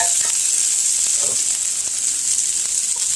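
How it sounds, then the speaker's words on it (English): Onions added to a hot pan for breakfast burritos fry with a loud, steady close sizzle and hiss, with a few faint stirring scrapes underneath. "All right, let's get those onions in there."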